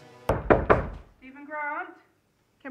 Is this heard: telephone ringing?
no